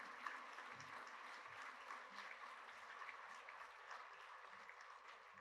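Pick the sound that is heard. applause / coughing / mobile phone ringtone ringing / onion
applause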